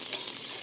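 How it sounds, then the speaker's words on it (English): Chopped onion sizzling in a hot pan, a steady, bright hiss of frying that stays loud and even throughout the short moment, with no talking. "I love that sizzle"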